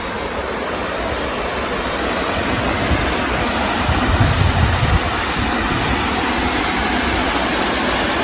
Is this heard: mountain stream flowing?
yes